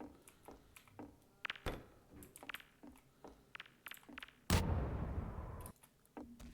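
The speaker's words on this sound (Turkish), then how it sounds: "nasıl bir patlamaymış lan?" Explosion from a thrown grenade in the first-person shooter Half-Life 2: Entropy Zero, a sudden loud broadband boom that lingers as a rumbling roar for about two seconds, preceded and followed by scattered game sounds and clicks.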